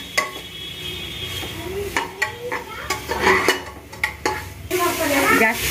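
Spices with cloves sauté in a pan: a spoon scrapes and clinks against the metal in sharp bursts over a low sizzle, with occasional voices close by.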